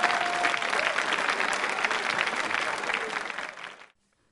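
Audience applause at a quiz show awards event, a dense sustained clapping from a crowd that carries on steadily for about four seconds before stopping abruptly into silence.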